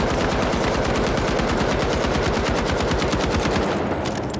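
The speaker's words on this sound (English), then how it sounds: "You can get crazy with the M60 as well." M60 machine gun firing in the video game The Finals: one long, unbroken burst of rapid, evenly spaced shots, loud and dense, running throughout without a pause.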